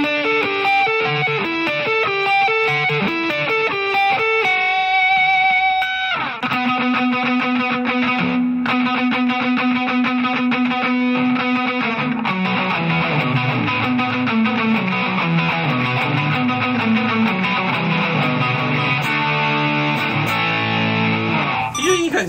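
An electric guitar played on the front pickup through a heavily saturated distortion pedal, heard as loud sustained chords and single-note lines that fill the whole clip without a break.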